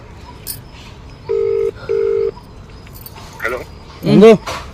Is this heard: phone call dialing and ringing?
yes